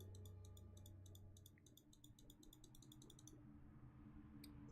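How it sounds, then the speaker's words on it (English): Computer mouse clicking, a quick run of faint, crisp clicks in an irregular rhythm over low background hum, with one louder click at the very end. "Sorry if you guys hear so much freaking clicking, by the way."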